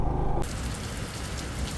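Heavy rain pours down steadily outside a hotel room, a dense, loud, continuous hiss that sets in abruptly after a brief moment of lower rumble.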